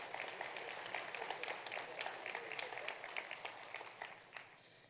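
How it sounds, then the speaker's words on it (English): A conference audience applauds the organizers, a steady patter of many hands clapping at a moderate distance, holding an even level for several seconds. "Can we just have a round of applause for the organizers?"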